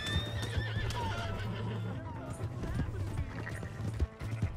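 Galloping hoofbeats and a horse's whinny in Red Dead Redemption 2, with steady clip-clop rhythm under music and a voice.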